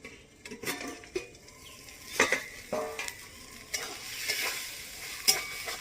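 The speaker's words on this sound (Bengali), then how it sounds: "ভালো করে ভাজবো ঢাকা দিয়ে দিয়ে দিই বন্ধুরা" Coconut and taro stems frying in a pan, with soft sizzling broken by several scraping stirs and clinks of a utensil against the pan, close and fairly quiet, with no talking.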